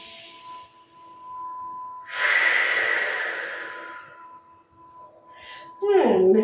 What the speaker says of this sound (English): Take another breath here.